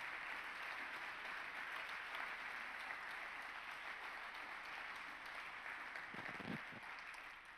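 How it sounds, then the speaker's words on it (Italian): Sustained audience applause fills a congress hall at a national Arci association congress, steady dense clapping from many hands throughout, fairly distant and even, with a brief swell of voices near the end. "dobbiamo farci tutti un grande applauso"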